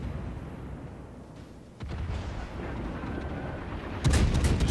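Naval guns firing shells in World of Warships, deep booming blasts with a rumbling low tail and a louder burst near the end, set against steady ambient battle noise.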